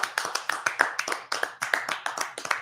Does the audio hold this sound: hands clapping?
yes